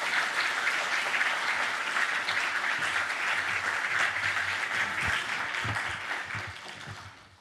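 A church congregation at a 70th anniversary service gives the pastor a big round of applause as he comes forward, a dense, sustained clapping that fills the room and fades out toward the end.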